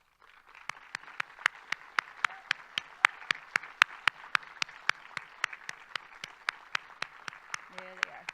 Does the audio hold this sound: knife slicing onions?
no